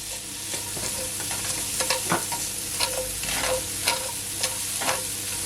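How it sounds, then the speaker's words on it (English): Onion sautéing in a pot used to fry chicken breast, with close continuous sizzling and repeated scraping stirs of a utensil at an uneven rhythm. "I'm gonna firstly add my onion. Just gonna allow it to saute for at least 15 seconds"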